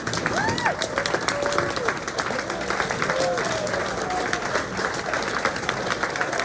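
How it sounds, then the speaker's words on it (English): A banquet audience at a boys' track and field team dinner applauds the coaching staff with sustained clapping and crowd noise, while voices call out over it. "I would like everybody to stand up and give an applause to all the coaching staff here right now"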